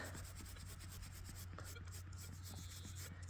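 A George V coin found while metal detecting in a field, brushed clean with quick, faint scratchy rubbing strokes, close but quiet over a low steady hum.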